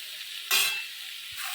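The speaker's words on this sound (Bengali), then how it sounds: "এটা আর একটু ভেজে নেবো ভালো করে।" Eggplant frying in a pan for a mustard-paste curry, a soft background sizzle with a sudden louder burst of hissing just after the start that gradually fades.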